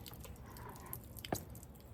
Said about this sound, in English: Just making sure all of them are dripping.